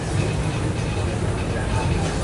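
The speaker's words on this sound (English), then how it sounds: "welcome aboard the Disneyland Railroad" Steady low rumble and rattle of the Disneyland Railroad train rolling along the tracks, continuous and fairly loud throughout.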